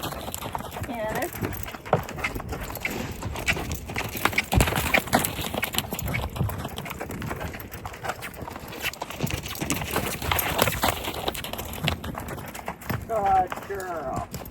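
A gaited horse's hooves clip-clop in a rhythmic canter during a training session, moderately near and mixed with a rider's voice giving commands throughout.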